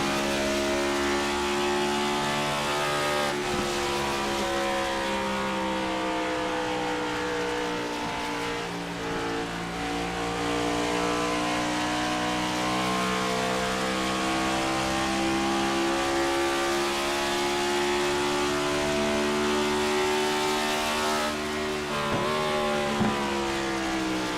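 A race car at Motegi howls in a sustained, loud engine note, its pitch dipping and climbing again at several gear changes as it drives into the tighter turns 3 and 4.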